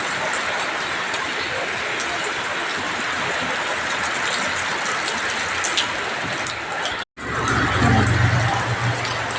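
Steady heavy rain pours down continuously, loud and close, with a brief dropout near the end before the downpour resumes along with a low rumble.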